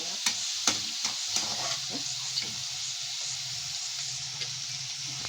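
Chicken frying in a pan for menthi kura, a steady, soft sizzle with occasional sharp clicks of a utensil stirring and scraping against the pan.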